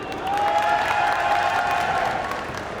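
Audience at the Japan Expo convention clapping together in a steady wash of applause that swells quickly, holds for a couple of seconds and tails off, with some scattered crowd voices mixed in.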